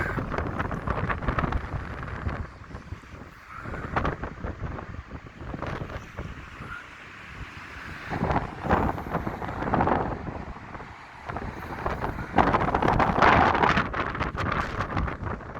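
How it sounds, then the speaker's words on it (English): Strong wind batters the microphone on the Blackpool seafront on a cold, dull day beside a rough sea, roaring in loud, uneven gusts that swell and fade for the whole stretch with no talking. "I know it's windy, but bear with it."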